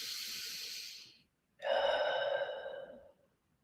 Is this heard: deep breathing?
yes